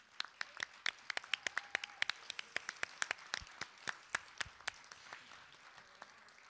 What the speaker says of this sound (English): Please have them stand and give a round of applause.